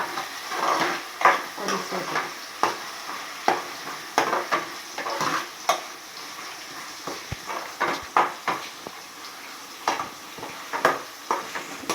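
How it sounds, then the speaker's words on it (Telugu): Green chillies being stirred into a simmering Andhra-style fish stew (chapala pulusu), with repeated scraping and clinking of a spoon against the pot in an irregular rhythm over a soft background sizzle, close and moderately loud. "పచ్చిమిర్చి వేసేసి కలిపేసుకుందాం"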